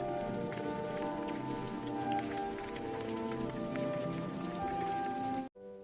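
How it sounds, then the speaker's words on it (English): Heavy rain pours down steadily on a surface outside a family home, a dense, continuous hiss with scattered drop impacts, loud and close, ending abruptly in near silence at the very end. "it's raining so much."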